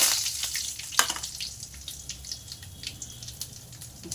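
Curry leaves sizzling in hot oil for tomato thokku: a steady, fairly soft crackle and hiss with small pops, heard without voices.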